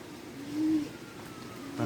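Pigeons in a home loft give a soft, low coo that swells and fades once, with a fainter second coo near the end over a quiet background.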